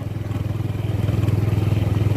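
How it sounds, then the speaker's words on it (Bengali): Motorcycle riding on an outing in the Sundarbans at Patharpratima, its engine making a steady, fairly loud rhythmic pulse that builds slightly, with no talking. "আবার চলতে শুরু করেছি আমরা বাইকে করে"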